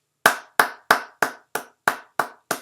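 Eight crisp, evenly spaced claps ring out one by one in a steady rhythm, loud and close, each with a short decay and no talking.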